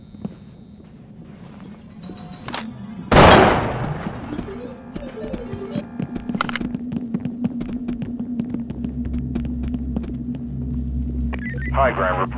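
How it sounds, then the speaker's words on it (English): Gunfire in the SWAT 4 video game: a single loud, sharp shot rings out early over a constant low hum, followed by quieter scattered clicks and ambient game sounds. "Shots are being fired at the perimeter from the neighboring laundromat."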